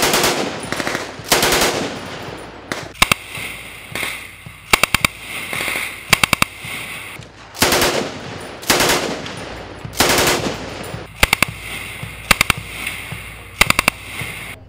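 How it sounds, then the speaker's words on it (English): A Browning Automatic Rifle, a full-auto .30-06 machine gun, fires several short bursts at an outdoor rental range, loud close rattling strings of shots separated by pauses, with other guns popping along the line. "Here you're shooting the Browning Automatic Rifle, better known as the B.A.R. This is a full-auto 30-06 machine gun."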